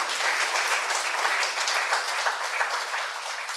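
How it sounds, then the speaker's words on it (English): An audience at BKF Bangsar's Thursday talk series applauds BK Sona Bahri after her session. Continuous, even, mid-level clapping from many hands runs throughout and eases slightly at the end. "Can we have a big round of applause for her?"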